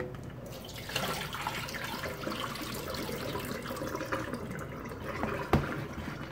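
Tap water runs steadily into a sink while food is rinsed by hand, a close, even rush with a single sharp clink near the end.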